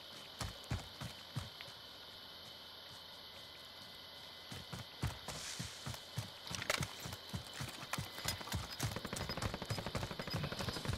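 Gunfire in the video game Warzone, rapid bursts of shots in uneven clusters that grow busier and denser toward the end, fairly loud against a steady background hum.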